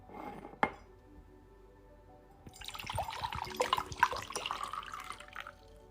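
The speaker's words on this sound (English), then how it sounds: "stops to offer a glass of water to a small Buddha statue" Water is poured into a glass in a home kitchen, with a sharp glass clink near the start followed by a few seconds of splashing, trickling pour and light clatter of dishes close by, with no talking.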